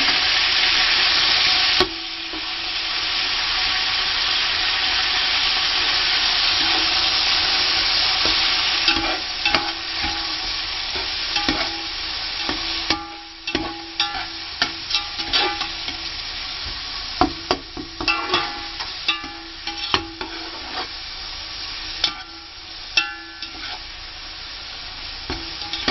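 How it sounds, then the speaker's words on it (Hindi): Chicken sizzles and fries in a pan with garlic paste for Pakistani chicken biryani, a loud steady frying hiss broken by repeated scraping stirs and clinks, with no talk. "और उनको फ्राई करें। साथ ही आपने गार्लिक पाउडर डाल देना,"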